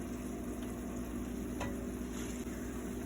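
White wine goes into a hot pan used for searing cod, producing a continuous close sizzle and crackle over a low rumbling background, with nobody speaking.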